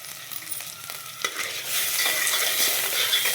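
Eggs roasting and being stirred in a pan with onions, a steady close sizzle that swells louder partway through, with spatula scrapes and clicks over the frying hiss.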